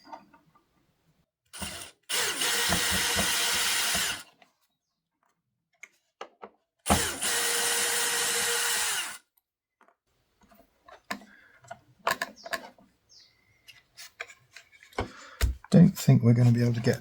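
A power tool whirs in two steady bursts of about two seconds each, driving out the screws on an aircraft undercarriage leg. Quieter clicks and handling knocks follow the bursts.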